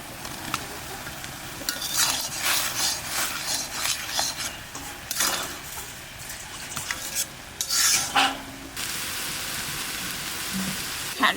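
Prawns tossed into half-fried kalmi greens in a pan: irregular stirring scrapes, metal clinks and bursts of sizzling come and go over about eleven seconds, close up and with no voices.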